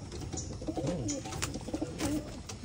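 High-flying pigeons cooing in a loft, with low murmuring coos in short overlapping phrases against a busy, fairly faint background.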